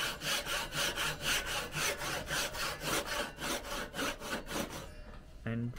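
Hand saw cutting wood for dovetails, a steady rhythm of close, rasping back-and-forth strokes for several seconds before it stops.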